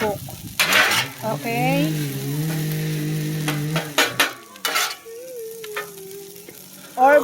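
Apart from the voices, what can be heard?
hibachi fried rice frying and stirring in pan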